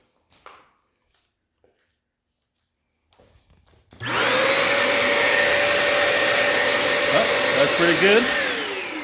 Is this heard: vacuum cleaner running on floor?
yes